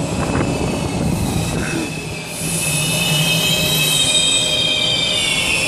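A southbound metro passenger train runs with a loud, steady rumble of rail wheels and a high metallic squeal from start to finish, with no talk.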